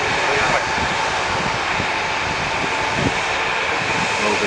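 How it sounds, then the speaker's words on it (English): A Cathay Pacific Airbus A350 taxis at Manchester Airport, its jet engines giving a steady, loud whooshing roar with a high whine, while someone talks over it. "Taxiing over to runway R2 at Manchester Airport"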